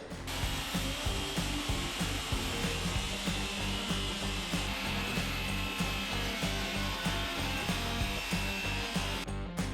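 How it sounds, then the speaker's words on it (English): A 9-inch power saw cuts a section for a skillion roof build over a container house, its loud, steady whine running continuously with a regular pulsing rhythm throughout, close to the microphone. "Here's my first little section cut out with the 9-inch."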